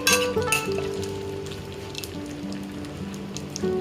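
Whole spices (cinnamon, cloves, cardamom and a bay leaf) frying in hot oil in a pan, giving a soft, steady sizzle close by, with a few light clinks near the start and end.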